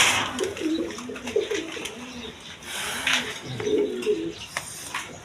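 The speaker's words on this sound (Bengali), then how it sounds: "এখানে এক পেয়ার হাই ফিলাইন গিরিবাস কবুতর আছে দেখেন কোয়ালিটি সম্পন্ন কবুতর" A pair of high-flying Giribaz pigeons coo close by in several soft, rolling bouts of low throaty calls, with faint background noise between them.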